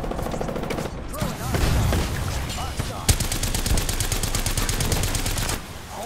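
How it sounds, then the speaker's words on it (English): Apex Legends gunfire from several weapons in a firefight, with rapid automatic bursts and a sharp single shot, the fire steady and loud in the later seconds, with voices briefly heard in the background. "Someone's shooting from the ship"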